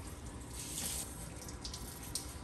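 Water runs steadily from a sink tap through a CPAP hose during cleaning, a continuous close splashing rush with no voices.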